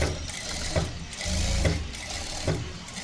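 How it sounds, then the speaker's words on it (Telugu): A sewing machine stitches along the edge of thin fabric being joined for piping, making a continuous whir with regular mechanical clunks about once a second. "రెండింటిని కలుపుకొని ఎడ్జ్కి మిషన్ కుట్టు ఒకటి వేసుకోండి."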